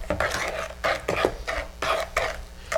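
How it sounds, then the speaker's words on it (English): Baking powder is mixed into flour in a bowl, giving repeated scraping and rubbing strokes in a steady rhythm with light clinks of utensil on bowl, close and moderately loud. "I'm gonna mix that up with the flour."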